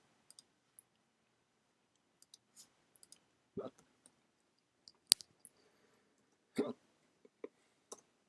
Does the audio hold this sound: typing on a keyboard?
yes